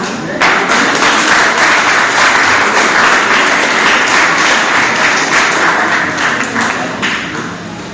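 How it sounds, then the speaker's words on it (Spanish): A church congregation breaks into sustained applause, dense and steady for several seconds before tapering off slightly at the end. "Damos un aplauso al Señor"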